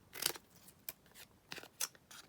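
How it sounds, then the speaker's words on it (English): Scissors snipping brown packaging paper, four or five crisp separate cuts spaced unevenly, close up and quiet with no voices. "just snip it down"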